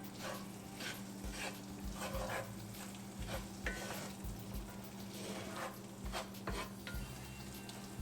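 Spices fry and sizzle in a pan on the stove for a chicken tikka masala, a quiet steady crackle broken by repeated scraping stirs and light clinks of utensil against pan, with no talking.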